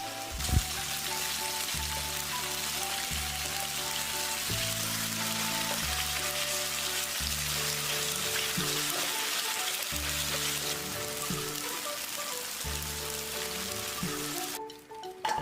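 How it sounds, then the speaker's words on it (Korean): Steady oil sizzling and crackling from tofu frying in a pan on a gas stove, continuous and close, with occasional soft clinks and shifts near the end. "두부는 앞뒤로 노릇노릇하게 구워줍니다."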